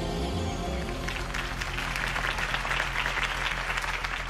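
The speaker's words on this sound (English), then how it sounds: "If only Mr. Wayne, my campaign's largest backer, could have heard that applause" A crowd applauds continuously at a Harvey Dent campaign rally in the Batman Telltale Series video game: dense, even clapping with no talking over it.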